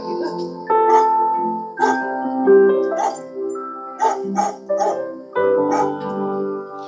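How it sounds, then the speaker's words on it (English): A dog barks and whimpers close by in a series of loud, uneven bursts. Yips and whines are broken by short pauses. "Dog don't recognize him."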